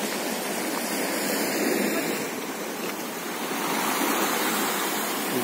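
Surf washes steadily onto a stony beach on the Berdyansk Spit in the early evening, a continuous broadband rush of waves that swells and eases without pause.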